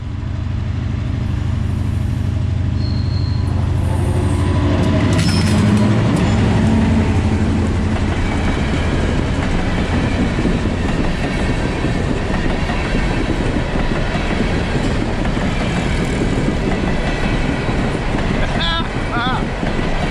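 An EMD SD38-2 diesel locomotive rumbles under throttle climbing a 2.5% grade on an 11-degree curve, its tone stepping up partway, with wheels clattering and squealing over the rails throughout.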